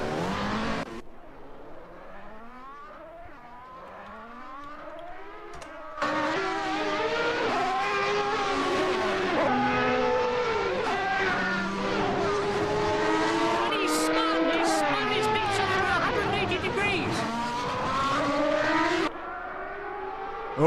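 Race cars in the racing game Assetto Corsa at Phoenix, engines revving and shifting through gears with rising and falling whine, loud and continuous, with a commentator talking over them.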